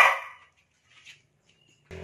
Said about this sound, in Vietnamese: Sủa.